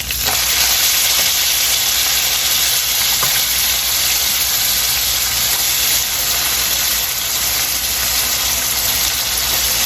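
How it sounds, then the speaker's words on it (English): Food fries in a pot for Haitian black beans and rice, a loud, continuous close sizzle and crackle that holds steady throughout with no speech. "So we're going to allow this to fry for about a minute or so"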